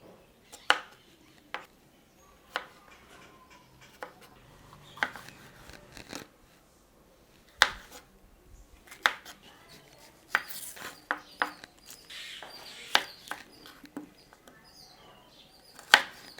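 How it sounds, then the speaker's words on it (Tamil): Knife chopping capsicum into squares on a board, a series of sharp, separate cuts with uneven gaps, close and fairly quiet. "அடுத்தது நம்ம குடமிளகாயும் ஸ்கொயராக கட் பண்ணி எடுத்துக்கலாம்."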